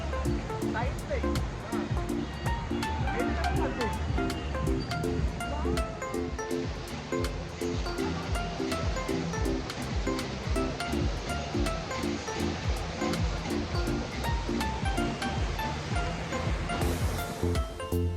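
Surf at Uttan beach washes in a steady broadband roar that stays loud and close throughout, with people talking over it.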